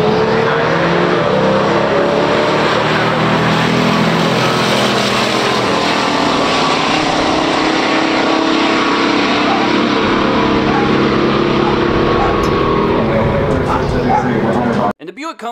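A 1969 Barracuda 440 and a 1971 Buick GS455 Stage 1 run side by side in a pure stock drag race, a loud, continuous roar of V8 engines under strain that fills the whole stretch before cutting off abruptly near the end.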